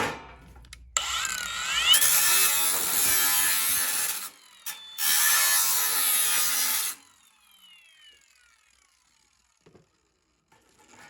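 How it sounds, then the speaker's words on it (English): An angle grinder cuts through a metal fuel tank close by in two loud, harsh bursts with a short pause between, then winds down to quiet. "Now guys, now I'm gonna take this outside and cut this with the grinder."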